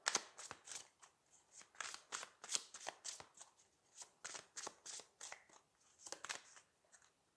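Holographic tarot cards are shuffled and drawn in a close, quiet series of crisp riffling snaps and flicks, each one short and sharp, with no voice.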